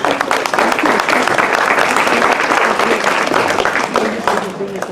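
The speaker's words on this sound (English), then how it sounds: "Cynthia Donato, please come up here and a round of applause." Wedding guests clapping at a reception during the speeches, a loud sustained round of applause filling the room for several seconds before tapering off.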